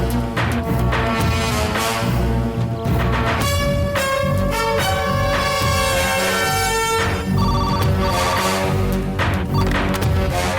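A telephone rings continuously and loudly with a repeating electronic tone, layered over dramatic background music in a Tamil TV serial scene.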